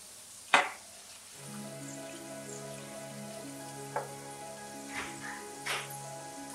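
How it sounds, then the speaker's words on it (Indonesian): Peanuts frying in oil in a pan over a lowered flame, a soft steady sizzle with a sharp clink near the start and a few faint knocks later, no talk. "Goreng hingga kacang berwarna coklat kemerahan."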